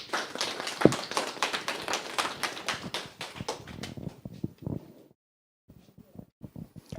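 Audience applause greets a speaker at a Korean history and culture lecture: dense, fairly close handclaps for about five seconds, thinning to scattered claps before a short silence and a few last claps.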